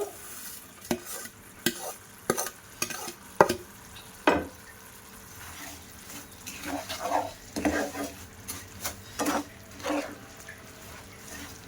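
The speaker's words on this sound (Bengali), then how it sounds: "এবার আমি ওই ভাজা লাচ্চাগুলো সব দিয়ে দেব।" Fried lachha semai being stirred into thick sugar syrup in a pan, with repeated scraping and clattering stir strokes over a soft sizzle, close and moderately loud, no talking.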